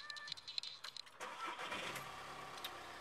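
Volkswagen T5 van engine starting, with a few faint clicks first, then the starter cranks and the engine catches into a steady idle, heard alone and fairly quiet.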